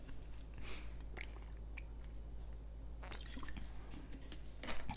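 Someone gulps water loudly, close to the microphone, making several separate wet swallowing sounds against a quiet indoor background.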